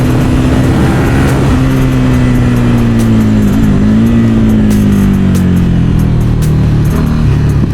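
A 2011 KTM RC8 R superbike engine runs loud and close, holding a steady, slightly wavering pitch that dips and recovers in a sustained rev with no gaps.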